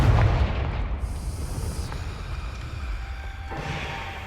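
A fiery Confringo spell explodes in Hogwarts Legacy, opening with a heavy boom that trails off into a long, rumbling roar with no speech.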